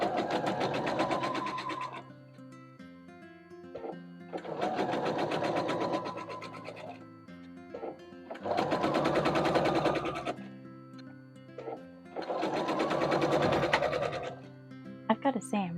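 A sewing machine stitches the corners of quilt blocks in four long, loud bursts of rapid whirring, separated by short pauses, close to the listener with no talking over it.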